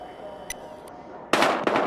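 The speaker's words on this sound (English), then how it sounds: "We've got gunshots. We're engaging." Gunfire in the video game Battlefield Hardline: after a quiet stretch with small clicks, two sharp loud broadband bursts crack out close together near the end.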